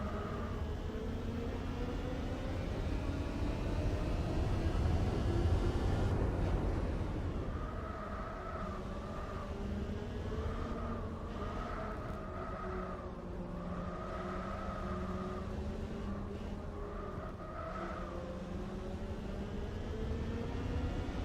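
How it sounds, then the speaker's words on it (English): A car engine in Gran Turismo 4 makes a high, buzzy motorbike-like drone, revving steadily then cycling through repeated rising pulls at moderate volume with no talk. "I think it is meant to be a motorbike engine."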